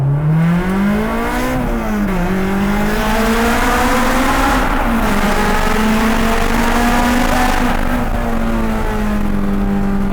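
A Honda S2000 time attack race car engine revs and changes pitch continuously, rising and falling in long sweeps, heard close up from inside the lightweight cabin with a boomy, enclosed tone.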